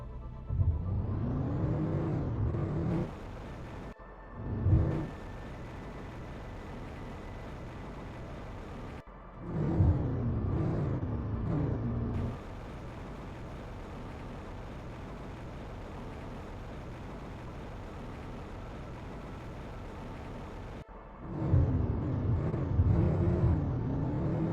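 A rover drives in the video game Planet Crafter, its motor whirring and revving in surges, with several rising and falling bursts and quieter steady stretches between.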